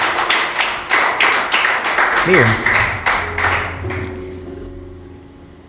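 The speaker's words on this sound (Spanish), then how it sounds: "Denle un aplauso a Dios ahí donde está." Church congregation applauding, a run of sharp, fairly loud hand claps in a steady rhythm that fades out over several seconds, with a speaking voice briefly over it and a low organ-like tone underneath.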